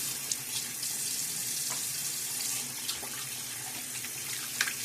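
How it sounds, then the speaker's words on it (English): Tap water runs steadily into a sink during a wet shave, a soft continuous trickle with faint splashes and small clinks, fairly quiet and close, with no voices. "A little splash of water."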